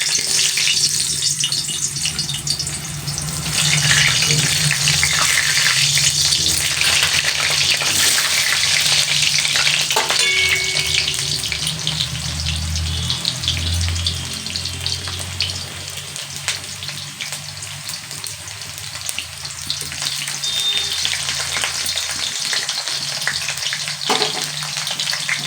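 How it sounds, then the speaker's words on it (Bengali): Potatoes frying in hot oil in a home kitchen, a steady loud sizzle with occasional stirring clatter, continuing for the whole stretch with no talking. "তেলটা প্রায় গরম হয়েই গেছে। তো সবার আগে আমি আলুগুলো একটু ভেজে নিই লাল লাল করে।"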